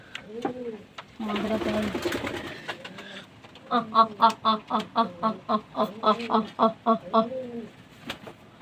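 Pigeons coo in a steady run of rhythmic, throaty calls, close and clear, after an opening stretch of rustling and muffled voices.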